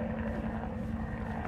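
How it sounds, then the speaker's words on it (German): A helicopter circles in the Resident Evil 2 Remake video game, heard as a steady, moderately loud low rotor rumble with a faint droning tone and no talking over it. "das könnte tatsächlich der Hubschrauber sein"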